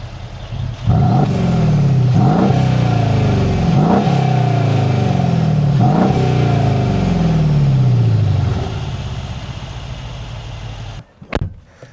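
A Mercedes E550 W212 engine revs hard up close in five or six rising-and-falling blips, roughly two seconds apart, then settles and cuts off, followed by a brief clunk like a car door.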